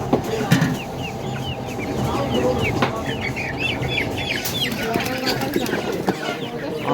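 Chickens cluck and squawk repeatedly at a busy poultry market, steady and fairly close, with background chatter and market bustle underneath.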